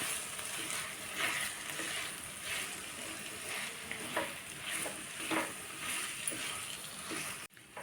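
Finely chopped bitter gourd sautéing in a pan, a steady hissing sizzle with intermittent stirring scrapes and clinks, close and continuous.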